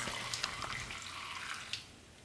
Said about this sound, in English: we're simply going to strain out all of the foliage and pour our concoction into a measuring cup